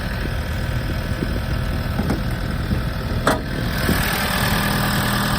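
Toyota RAV4 from 2013 with a 2.2 diesel engine and automatic gearbox idling steadily, a close, even mechanical clatter with a brief click partway through.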